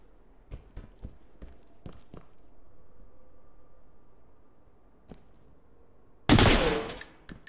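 Gunfire at a window in the video game Ready or Not: a scattered string of sharp single shots, then a quiet stretch, then one loud crashing impact burst near the end.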